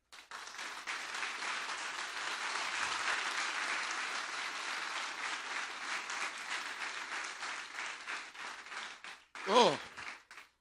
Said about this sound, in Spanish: Yo quiero darle un fuerte aplauso al Rey de Reyes